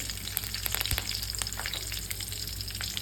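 Green chilies, mustard seeds, cumin and garlic fry in hot oil with a steady, fairly quiet sizzle, scattered crackles and pops, and occasional stirring, with no talk throughout.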